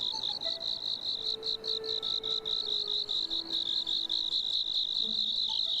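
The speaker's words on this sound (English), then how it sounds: "All right, crickets." Crickets in the Scroll of Taiwu video game chirp in a steady, high, pulsing trill that runs throughout. A few faint tonal sounds from the game drift underneath, and nobody speaks.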